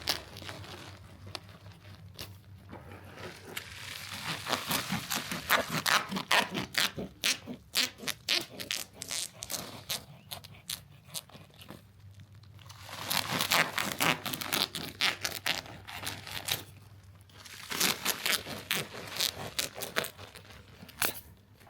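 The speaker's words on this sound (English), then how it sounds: "So I can go ahead and cut the corners down." Scissors or a blade cut the corners of an expanded bedding bag for a horse stall floor, giving repeated close, crisp crinkling and tearing bursts of plastic in several clusters separated by quieter pauses, with no talking.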